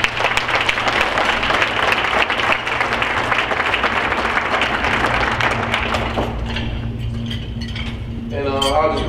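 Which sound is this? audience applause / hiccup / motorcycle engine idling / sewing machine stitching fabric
audience applause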